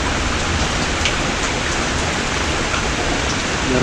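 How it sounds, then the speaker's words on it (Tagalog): Steady heavy rain hisses down in a continuous dense wash, loud and close, with scattered droplet patter and no voices. "Kaso na maulan eh. Maulan."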